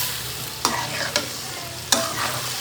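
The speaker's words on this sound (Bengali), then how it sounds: "একটু কষায় নেবো, এরপরে পানি দিয়ে দিব, একটু নিচ থেকে নাড়া দিয়ে দিব।" Tengra fish cooking with new potatoes sizzles steadily in a pan while a spoon stirs it, three sharp scraping strokes standing out against the continuous frying hiss, close and without talk.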